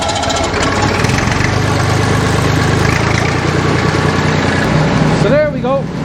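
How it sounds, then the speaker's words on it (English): A tractor PTO drives the rotor of a straw chopper being rebuilt for bedding, giving a steady, loud mechanical engine-and-rotor drone that holds throughout, with a brief whining sweep near the end. "That's the PTO engaged, the rotor spinning."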